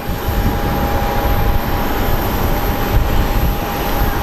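A jet airliner takes off at Phoenix Sky Harbor International Airport, a loud continuous engine roar with a steady whine running unbroken throughout, no voices present.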